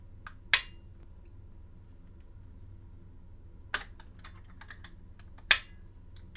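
A few sharp metallic clicks of 6mm ARC reloaded cartridges seating into a rifle upper's chamber, three distinct snaps spaced seconds apart over a low steady hum, close and fairly loud, with no talking.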